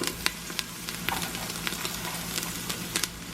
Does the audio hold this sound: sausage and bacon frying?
yes